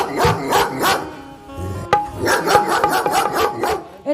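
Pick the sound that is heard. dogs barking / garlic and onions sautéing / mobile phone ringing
dogs barking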